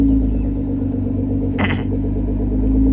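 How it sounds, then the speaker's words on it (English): A Lamborghini Murcielago sits close by with a loud, steady low exhaust rumble, broken briefly midway by a short hiss or clatter. "Even check out the exhaust note of this car."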